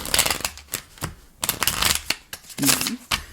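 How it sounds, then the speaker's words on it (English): Tarot cards riffle and flutter in several quick bursts of shuffling, close and crisp, with a voice speaking briefly between them. "That was an awkward shuffle."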